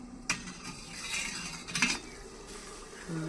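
Metal kitchen tongs clink and scrape against cooking pots while kadhi-chawal is being made, giving a few sharp close clatters and rattles separated by quiet pauses.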